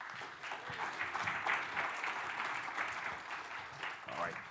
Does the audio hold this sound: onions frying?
no